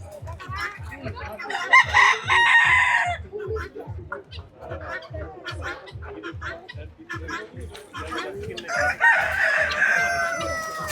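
Roosters crow loudly twice at a poultry farm keeping fancy breeds from many countries, amid steady clucking from hens and a regular low mechanical thumping throughout.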